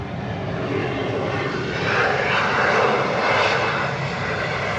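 An Air France airliner's jet engines roar on departure from Atlanta Hartsfield-Jackson airport on a hazy day, a loud steady broadband rumble that swells slightly midway and holds without any voices.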